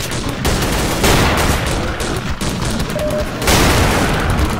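Loud, dense gunfire and explosive booms in the indie game Codename Cure, with rapid automatic shooting and heavy blasts crowding together almost without pause.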